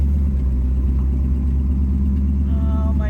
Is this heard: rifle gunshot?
no